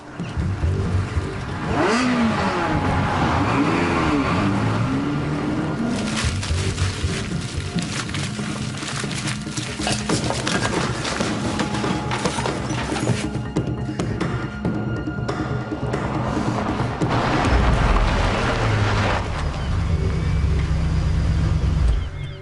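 A car drives up and arrives, its engine rumbling and shifting in pitch over many seconds, fairly loud and close, with a brief voice early on and scene ambience throughout.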